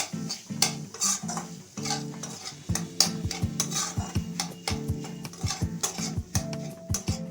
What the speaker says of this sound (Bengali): দিয়ে আমি আরেকটু ভালোভাবে হালকা নেড়ে নেব